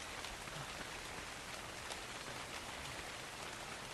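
Rain in the video game Ark: Survival Evolved falls as a steady, even hiss of drops, soft and continuous with no talk over it.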